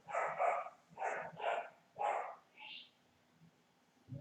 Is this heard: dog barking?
yes